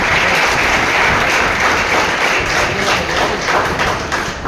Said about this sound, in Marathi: म्हणून तुमच्यासाठी एकदा टाळ्या वाजवा.